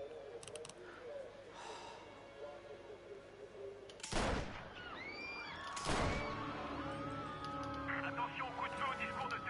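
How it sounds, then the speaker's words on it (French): Gunfire at a political speech in a video game: two loud, sharp broadband blasts about two seconds apart, with ringing tones after each, over a bed of crowd murmur and speech. "Attention, coup de feu au discours de Turnbull"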